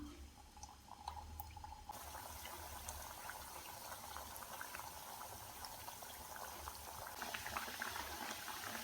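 Badusha dough fries in hot oil, a steady, faint bubbling sizzle that holds evenly throughout without voices.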